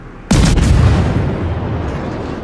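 A warship fires a heavy naval gun salvo in World of Warships. A sharp, loud boom hits, then a long rumbling tail fades out, with no speech.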